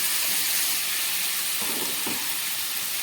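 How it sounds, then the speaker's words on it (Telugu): Potato pieces dropped into hot ginger-garlic paste frying in a pan give a steady, loud, close hiss and sizzle with a couple of soft bursts midway, no talking. "ఇప్పుడు నెక్స్ట్ దీనిలో ఆలూ పీసెస్ అయితే వేయాలి."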